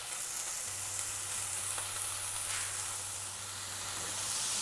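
Spinach leaves sautéing in a pan while being lightly mixed, a steady close hissing sizzle with a few soft stirring scrapes, heard alone without talk.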